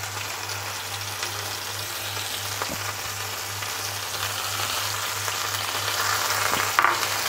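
Hilsa fish frying in hot oil in a wok, a dense, even crackling sizzle that holds steady and grows slightly louder toward the end, close up with a low hum underneath and no talk.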